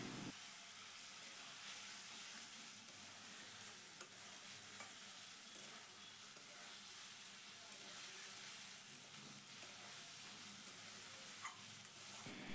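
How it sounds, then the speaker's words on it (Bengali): Fried pointed gourd sautéed with spices and green chillies in a pan, a soft continuous sizzle with occasional stirring scrapes and light crackles, fairly quiet and steady throughout, no talking. "এখন পটলের সাথে মশলাটাকে আবারও কিছুক্ষণ আমি কষিয়ে নেব।"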